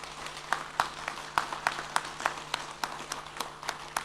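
A convocation crowd gives a round of clapping for the parents. Sharp individual claps stand out from a softer, scattered patter and keep a loose, fairly even rhythm at moderate volume.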